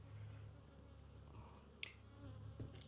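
Honey bees hum steadily inside a hive during a spring inspection, a faint, continuous low drone with a couple of brief clicks and knocks from handling the frames.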